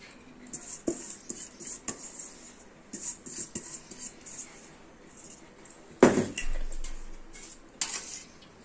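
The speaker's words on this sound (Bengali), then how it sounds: "এবার রাইস যা আছে সব দিয়ে দেবো ঢেলে।" Rice poured into a pot of biryani, a short rushing pour following scattered clinks of utensils and pans, then a softer settling rustle.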